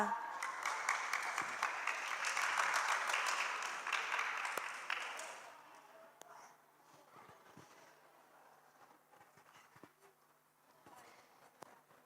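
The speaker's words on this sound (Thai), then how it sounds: "ขอเสียงปรบมือให้ห้องจีค่ะ" Audience applause for a children's group at an evening worship and prayer gathering, a fairly faint burst of clapping that fades out after a few seconds into quiet room noise.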